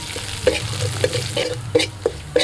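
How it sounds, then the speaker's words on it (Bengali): Curry leaves frying lightly in a pan give a soft, steady sizzle with several sharp crackling pops and spatters spaced through the clip, close and fairly clear, with no voices. "কারি পাতাটা হালকা করে ভেজে নিয়েছি, তুলে নিচ্ছি।"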